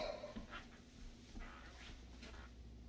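Dogs in a home, one a lively puppy, pant and whimper softly in short bursts, with faint yips rising between breaths at low, steady volume.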